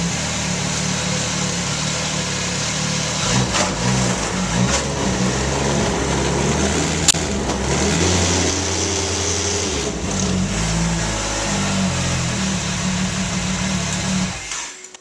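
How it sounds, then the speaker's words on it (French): Snowmobile engine running steadily and loud, close by, while the track is turned a few rotations after a tension adjustment, a continuous rumbling drone with shifts in pitch, then cutting off at the end. "Donc, on vient de partir la motoneige."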